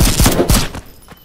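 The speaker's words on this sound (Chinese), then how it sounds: "枪声" Gunfire in the Japanese video game Kinki Spiritual Affairs Bureau, a quick burst of several loud, close shots in rapid succession.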